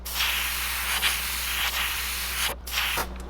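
An airbrush sprays paint onto a threadfin bream crankbait lure in a steady, close hiss that runs nearly the whole time, with brief pauses near the end as the trigger is released.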